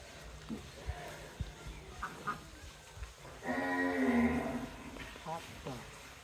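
Cows and calves lowing at a cattle sale, one loud, drawn-out moo near the middle among scattered knocks and handling noises, with people talking nearby.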